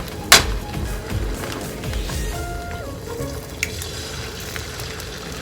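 An egg fries in the middle of a slice of toast in a pan, a quiet steady sizzle with a sharp clatter near the start and a few light kitchen knocks.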